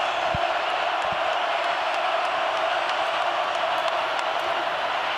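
Steady stadium crowd roar at Tennessee's Rocky Top stadium during a college football video game, Vanderbilt at Tennessee, a constant dense cheering wash with faint whoops and no talk.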